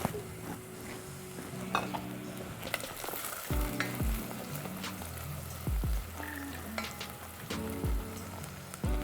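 Onions softening in hot oil for a pilau, sizzling steadily while a utensil stirs and knocks against the pot several times; no talking.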